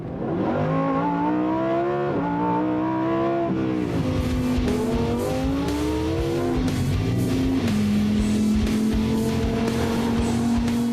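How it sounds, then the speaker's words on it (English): A loud 2022 Lamborghini Huracán Tecnica engine revs up through rising gears, its pitch climbing and dropping with each shift, up close and alone. "every little acceleration you give it will also directly be put to the engine"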